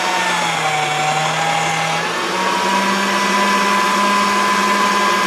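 A pasta machine rolls a slice of Premo polymer clay with a continuous, close, loud motorized whine and hum that shifts pitch slightly partway through, with no voices.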